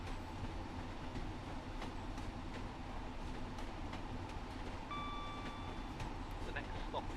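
A passenger train in Train Sim World 4 on the Tees Valley line rocks and rolls over track joints with a continuous low rumble, soft rhythmic knocks and a brief faint squeal partway through.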